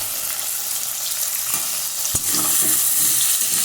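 Vegetables for a vegetarian lunch dish fry in a pan with salt and turmeric, giving a loud, continuous close sizzle with one sharp utensil knock partway through and no talking.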